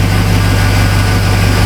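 Chevy Silverado truck engine running steadily, a loud, close, constant low hum and drone with no change in pitch and no talking.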